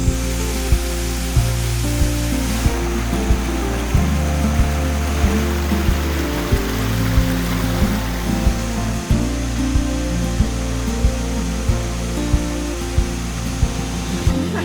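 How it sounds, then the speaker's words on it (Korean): Tasado waterfall in Thailand pours in a loud, steady, close roar of falling water that lasts throughout, with faint regular clicks underneath. "이곳의 이름은 타사도 폭포인 것 같다"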